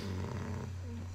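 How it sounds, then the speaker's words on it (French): A pet snores close by with a steady, low, purring rumble that holds unbroken from start to end, no voices. "si vous entendez des ronflements, c'est normal"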